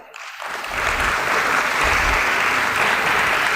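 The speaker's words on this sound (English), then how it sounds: "Can we begin this event with a huge round of applause" At a stock exchange listing ceremony, a large audience breaks into applause that starts suddenly and swells within half a second into loud, sustained clapping.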